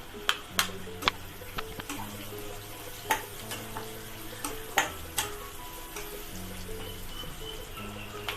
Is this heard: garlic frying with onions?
yes